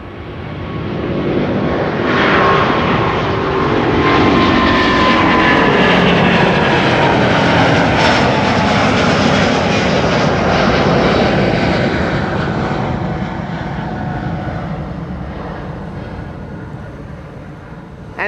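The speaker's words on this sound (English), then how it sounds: "a quickly vanishing A350 from Delta Airlines" Delta Airlines Airbus A350 departing Schiphol's Kaagbaan runway 24: a loud, sustained jet engine roar builds within seconds, holds steady, then slowly fades as the airliner climbs away.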